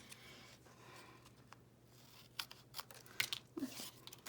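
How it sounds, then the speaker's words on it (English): Scissors snip through designer series paper in a few quiet, crisp cuts, with light paper rustling and handling noises at a close, intimate level. "So my piece of designer series paper is still a bit too long. So I'm just going to trim that down."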